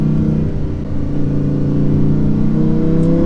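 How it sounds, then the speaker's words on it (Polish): A Lamborghini Huracan EVO V10 engine revs loudly and close, a deep rich roar rising steadily in pitch; no talking. "To V10 to jest chyba jeden z najlepszych dźwięków silnika, jaki w życiu słyszałem."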